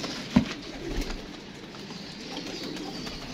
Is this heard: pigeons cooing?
yes